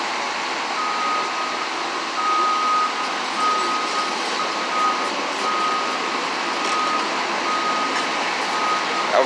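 A heavy truck of at least 20 tons reverses at a downtown Boston building site, its backup alarm beeping at a steady rhythm over a continuous diesel rumble and traffic noise.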